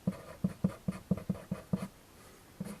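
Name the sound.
writing on paper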